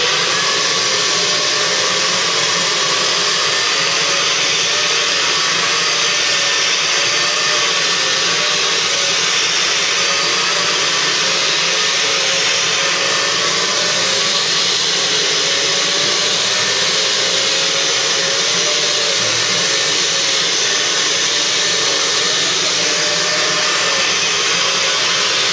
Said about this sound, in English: I'm just going to do a little bit more vacuuming